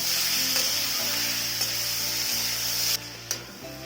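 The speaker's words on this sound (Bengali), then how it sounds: "এবারে লাউ দিয়ে লাউটা গলে যাওয়া পর্যন্ত আমি ফ্রাই করে নেবো" Grated bottle gourd fries in a pan on a gas stove, giving a loud, continuous close-up sizzle with a few sharp clinks and stirring scrapes, dropping briefly quieter near the end.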